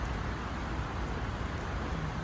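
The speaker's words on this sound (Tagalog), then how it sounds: "Umulan tuloy, naabutan na ako ng ulan." Steady rain falls in a soft, even hiss, fairly quiet and unbroken, with no voices over it.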